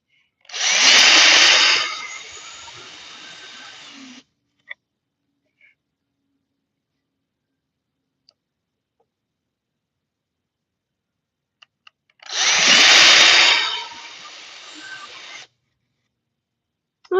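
Two bursts of a small, high-pitched power drill whirring, each lasting about three seconds, separated by quiet with a few faint clicks.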